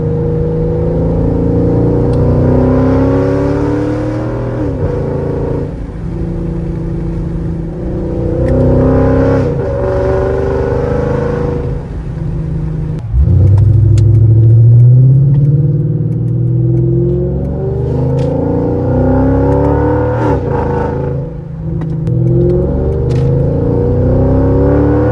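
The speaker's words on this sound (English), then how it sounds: "show you guys how the car sounds" A car fitted with performance exhaust headers revs its engine repeatedly, each loud throaty rise and fall spaced a few seconds apart, with one deeper, harder rev in the middle, heard close with no talking.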